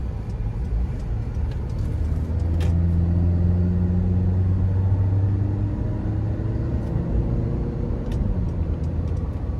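A 2013 Honda CR-V EX-L with the 2.4-litre four-cylinder pulls out of a corner, its engine droning steadily and rising slightly in pitch under road rumble, heard from inside the cabin with no talk.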